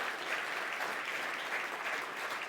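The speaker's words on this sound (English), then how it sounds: "Let's give them all a round of applause" Audience applause fills a large hall at a conference closing session, a steady, dense wash of clapping from a standing crowd that holds evenly throughout with no voices over it.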